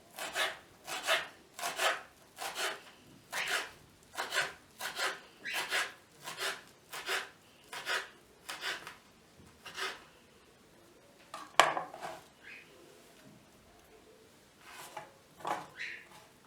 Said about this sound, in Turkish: taze nane yapraklarını da yine ince ince kıyıyoruz